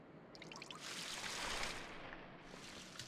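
Water pouring and splashing steadily onto plants in The Legend of Zelda: The Wind Waker, a continuous close trickling wash lasting about three seconds with no talk.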